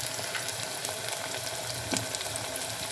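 Jackfruit seed gravy being stirred and mixed in a hot pan, giving a steady, close sizzle with bubbling and scraping textures and no talk over it.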